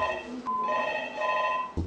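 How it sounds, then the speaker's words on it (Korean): A telephone rings in a high school staff room in Pohang, its electronic trill repeating in short bursts amid a busy indoor hum, fairly close. "교무실에는 불안한 학부모들의 문의 전화가 하루 종일 빗발쳤습니다"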